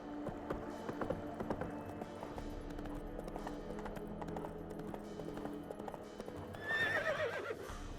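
Roach, a horse in The Witcher 3: Wild Hunt, gallops with steady rapid hoofbeats, then lets out a sharp whinny near the end, close and clear over the game's ambient sound.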